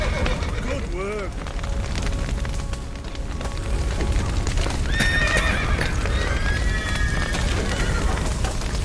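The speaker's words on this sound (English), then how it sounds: "The horses!" Horses neigh and whinny in The Witcher 3: Wild Hunt while hooves clip-clop, loud and close over a busy game backdrop, with someone speaking in between.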